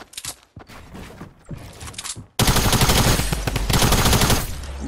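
Drum gun firing in Fortnite: a few short bursts of automatic fire, then a loud, sustained, rapid stream of close gunshots without a break.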